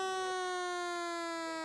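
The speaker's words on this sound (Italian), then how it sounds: "Suona però la sirena" A siren sounds at a harness racing track, one loud, steady, horn-like tone held without a break for the whole moment, with no voices over it.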